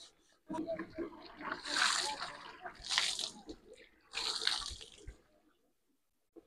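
Bursts of splashing water come in three surges with quieter trickling between, close by and fairly soft, with some background noise.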